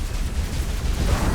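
Explosion in the sci-fi shooter game Overload, a dense low rumbling blast that rolls on steadily for over a second without easing off.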